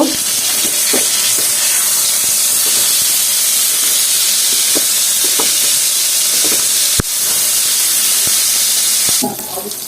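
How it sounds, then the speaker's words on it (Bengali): Fish frying in oil in a pan, a steady loud hiss and sizzle running throughout with occasional clicks and utensil taps, no voices. "এই তো মাছগুলো দিয়ে দিয়েছি, এখন আমি এগুলো উল্টায় নেব।"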